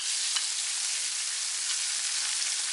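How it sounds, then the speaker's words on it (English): Shrimp seasoned with seasoned salt and Old Bay sizzles in a frying pan, a dense, steady hiss heard close up without pause and with no voices. "in the last few minutes of cooking is when you're going to add your shrimp"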